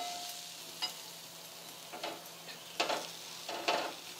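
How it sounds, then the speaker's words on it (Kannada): Gram flour frying in a pan over a low flame for onion paratha, a soft sizzle broken by several short stirring scrapes at uneven intervals. "ಇದು ಕಡಲೆ ಹಿಟ್ಟಿಂದು ಹಸಿ ವಾಸನೆ ಹೋಗೋವರೆಗೂ ಫ್ರೈ ಮಾಡ್ಕೋಬೇಕಾಗ್ತದೆ"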